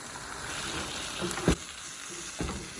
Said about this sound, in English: I've gone ahead and added 2 pounds of ground beef. And now I'm just gonna break it up